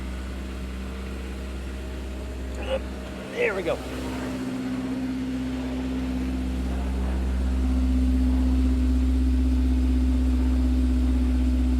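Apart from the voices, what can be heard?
Honda S2000 startup idle exhaust from outside the car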